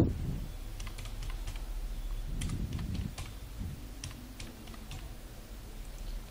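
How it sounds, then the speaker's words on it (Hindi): A child's Aadhaar card number is typed on a computer keyboard, producing a quiet, irregular run of light key clicks in small bursts, close by with no talking. "बच्चे का आधार कार्ड नंबर यहाँ पर आपको टाइप करना है"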